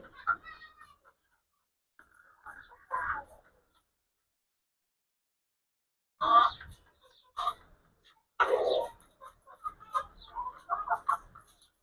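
A Brahma rooster clucks close by in sparse, short bursts separated by long quiet gaps, with a cluster of quicker clucks near the end and a faint voice now and then.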